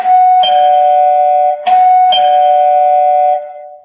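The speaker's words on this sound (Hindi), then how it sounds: "एक डोरबेल सुनाई देता है।" A doorbell rings repeatedly, loud and close, three bright chimes each sustaining a clear ringing tone before fading out.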